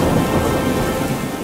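Heavy rain pours down with a low rumble of thunder, a loud, dense, continuous wash of sound with no voices.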